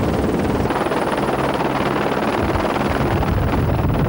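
Helicopter covering the 1993 Paris-Dakar rally, a loud, constant rotor roar with a dense, churning rumble that holds steady throughout.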